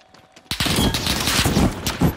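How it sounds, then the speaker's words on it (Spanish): After a brief quiet moment, a dense burst of rapid gunfire in Call of Duty: Modern Warfare on the Caldera map erupts and continues, loud and chaotic. "Disparos aquí arriba"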